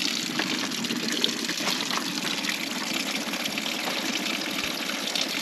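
Water running steadily from a garden hose into a French drain test setup, a continuous close gushing and splashing that stays even throughout with no talking.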